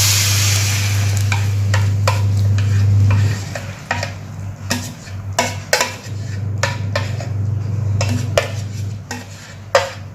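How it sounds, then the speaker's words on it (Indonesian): A utensil stirs chopped tomatoes into onion, carrot and celery in a cooking pot, with repeated scraping and sharp metallic clanks against the pot over a steady low hum and a soft sizzle. "Oke, aduk ya, campur."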